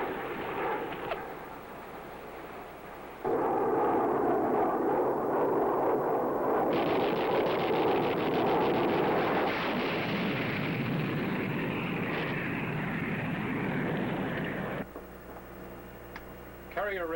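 Enemy planes attack a pilot in the water, with loud sustained rumbling roars and dense crackling bursts like machine-gun fire lasting about eleven seconds before abruptly dropping to a quieter hum.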